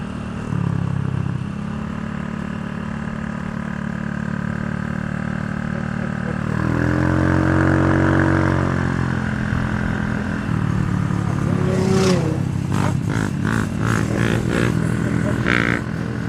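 A group of small-displacement mini motorcycles cruises past, with steady buzzing engines swelling as they pass close by, a higher revving rider near the end, and faint wind noise throughout.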